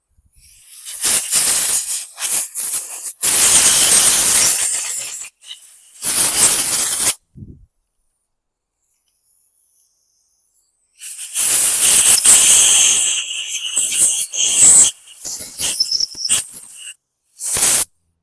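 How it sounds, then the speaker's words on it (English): Bursts of spray blasting into an original Briggs & Stratton carburetor on a 2022 Craftsman M100 walk-behind lawn mower to flush out old gas: loud, close hissing jets in several separate blasts with silent gaps between them. "Let's do a little blasting around here. Clean out any old gas that may be lingering."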